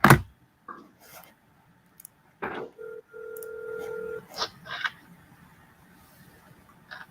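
A telephone number is dialed, giving a short series of distinct keypad tones, one held longer, separated by quiet gaps and a few clicks.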